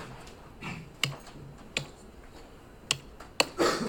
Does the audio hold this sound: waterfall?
no